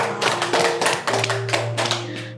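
Applause for a dangdut singer: a dense patter of hand claps that keeps going steadily, close and fairly loud, with no voices over it.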